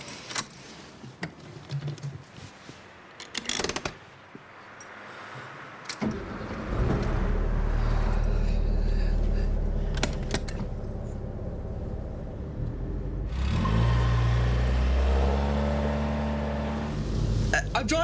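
Manual car idling and creeping forward during a driving lesson, a steady low engine rumble rising midway and holding, with a clutch-and-brake stop, cabin clicks and rustles, and instructor and learner talking over it.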